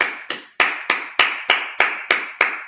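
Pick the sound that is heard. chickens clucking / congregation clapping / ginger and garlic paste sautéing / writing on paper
congregation clapping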